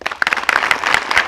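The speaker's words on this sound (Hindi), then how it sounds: "जोरदार ताली बजाओ" Loud, energetic clapping from a school audience at an intermediate college gathering, with distinct individual claps standing out from the close, uneven burst.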